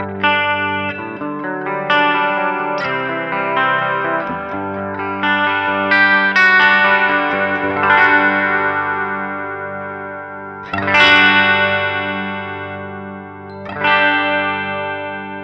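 Electric guitar through a Line 6 Metallurgy pedal on a bridge humbucker, with chorus and reverb, rings out loud and alone: sustained chords and picked notes that fade, then a couple of fresh strummed hits ring out.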